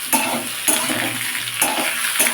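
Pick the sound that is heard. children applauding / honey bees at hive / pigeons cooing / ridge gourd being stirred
ridge gourd being stirred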